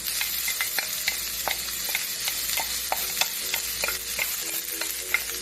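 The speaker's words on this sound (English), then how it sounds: "I'm gonna saute my garlic and my onion" Garlic and onion sauté in a tablespoon of olive oil for a garlic butter pasta sauce, a low steady sizzle carrying frequent quick clicks and scrapes of a utensil stirring the pan, close and without talk.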